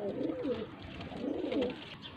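Faisalabad low-flyer pigeons coo softly in two rolling, throaty phrases, close by at moderate volume, with faint background noise around them.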